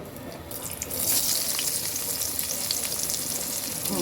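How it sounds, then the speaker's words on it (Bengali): Onion hits hot oil and breaks into a sudden loud sizzle that holds steady as a bright, crackling hiss, with faint stirring beneath. "পেঁয়াজ পেঁয়াজটাও ভেজে নেব দেখুন"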